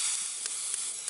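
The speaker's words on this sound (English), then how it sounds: "Pineapple rings. But I got some out, chuck them on here to" Pineapple rings for dessert sizzle on a camping stove at a campsite, giving a steady, bright frying hiss close by with a few brief crackling spikes and no talking.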